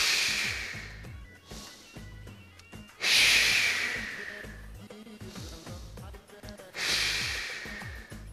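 Guided breathing exercise: forceful exhalations through the mouth, three strong breathy bursts spaced a few seconds apart, with softer breath sounds and faint background noise between them.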